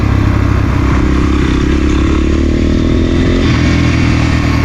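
A Kovi 250 Advance motorcycle with a tuned, ported 172FMM engine accelerates loudly up close, the engine roaring and rising in pitch along with wind and mechanical clatter.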